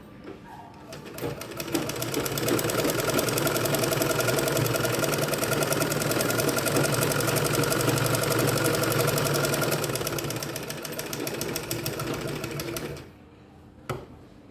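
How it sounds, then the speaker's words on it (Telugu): A sewing machine runs steadily for about twelve seconds, stitching folded dress fabric along a straight edge near the back and front neck, then stops abruptly, leaving a faint close tap. "ఇదంతా మనం మడిచి కుట్టుకుంటాం అనమాట ఫస్ట్కి"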